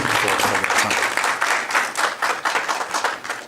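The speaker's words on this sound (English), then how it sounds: "Give him a round of applause." A crowd claps steadily for a few seconds at a graduate event on a university campus in Pretoria, dense and fairly loud, with no voices over it.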